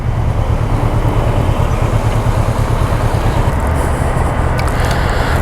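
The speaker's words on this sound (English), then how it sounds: "I'm gonna park my bike here." A motorcycle engine runs loud and steady at close range with a deep low rumble and no pauses, at a road border crossing.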